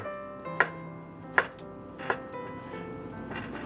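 Knife chops through beetroot cut into small squares on a board, three sharp, evenly spaced taps rising out of a quiet background, close and distinct.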